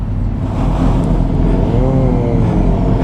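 A motorcycle on an evening ride around the block accelerates, its engine loud and close with a rising growl that swells midway over steady wind roar.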